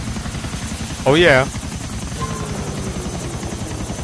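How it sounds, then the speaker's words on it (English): In the video game GTA IV, a helicopter's rotors chop in a rapid, steady pulse close at hand, running continuously as a brief spoken exclamation cuts in over the din. "So quickly get onto the chopper"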